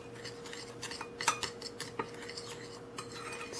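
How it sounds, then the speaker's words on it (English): A spoon stirs dry cake ingredients with baking powder in a bowl, with soft quiet scrapes and small clinks in an irregular rhythm, close and faint. "I'm just going to stir that around"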